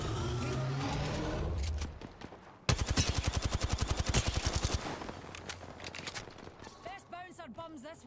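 Automatic weapon fire in the battle royale shooter Apex Legends: a dense, loud burst of rapid shots lasting about two seconds, followed by scattered single cracks and game sound effects, with a voice talking over parts of it.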